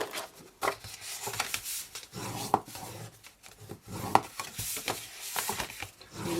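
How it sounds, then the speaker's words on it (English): Paper being folded and burnished along score lines for a sponged, dry-embossed lidded box, heard as continuous close rubbing and scraping strokes with brief sharper swipes. "Fold and burnish all your score lines."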